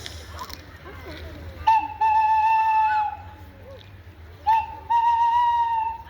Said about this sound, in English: If you hear that, that's a tawny owl.